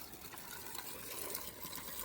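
Cold mountain water near Manali runs steadily in a soft, continuous gurgling trickle, faint and close, with no voices.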